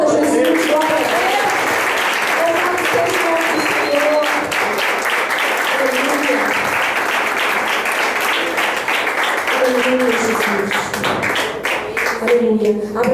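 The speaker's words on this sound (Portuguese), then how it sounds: "Aleluia, aplauda Jesus, glória a Deus." A church congregation applauds steadily during a sermon, a dense continuous clapping that fills the room, while a preacher's voice carries on over it.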